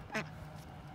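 A duck at a valley stream gives a single short, nasal quack close by, with faint outdoor background and no other calls.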